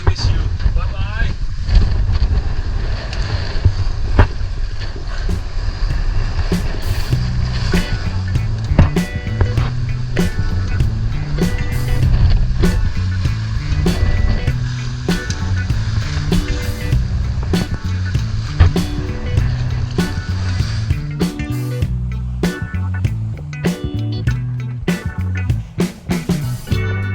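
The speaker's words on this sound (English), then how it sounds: "Southeast, easterly trade winds 20 knots, so the wind is already blowing us away" Sailboat underway in 20-knot southeast easterly trade winds off Rodrigues in the Indian Ocean, with steady loud wind and water rush throughout, broken by repeated knocks and bumps of the boat.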